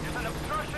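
A helicopter in Metal Gear Solid V drones with a steady rotor and engine roar, with someone talking over it.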